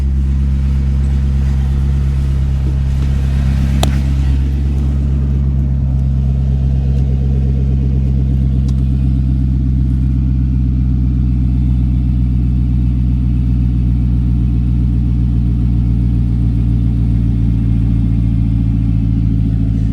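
A 2019 Chevrolet Corvette with a new exhaust idles and runs close by, a loud steady low-pitched drone with deep rumbling harmonics holding for the full stretch, no voices.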